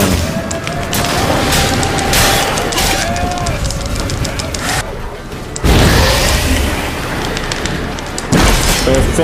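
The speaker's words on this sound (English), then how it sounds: "Explosions." Explosions and battle noise from The Witcher 3: Wild Hunt, a loud, dense barrage of booming blasts and rumbling that runs almost continuously, with sharp bursts near the middle and end.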